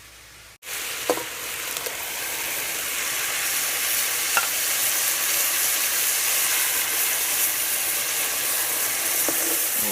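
Grated tomatoes hit a hot pot for soup and sizzle into a loud, steady hiss that starts abruptly and keeps going, with a few faint clinks on top.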